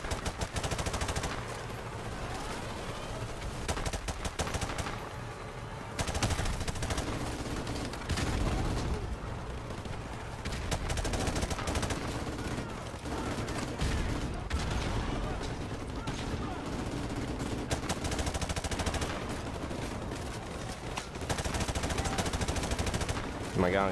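Dense, near-continuous gunfire, with bursting machine-gun rattle and rapid shots, fills a Call of Duty 4 Remastered battle in a bog. It stays loud and unbroken throughout, with faint voices occasionally beneath the shooting.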